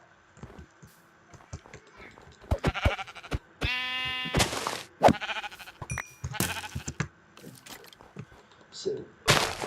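Minecraft sheep bleating in a winter game world: one clear, drawn-out bleat stands out among sharp clicks, thumps and other short game sounds, with some talking.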